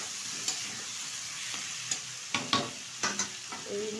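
Two kinds of potatoes, including purple yam, sauté in oil, a soft continuous sizzle close by, punctuated by several clattering spatula stirs against the pan, with no talking.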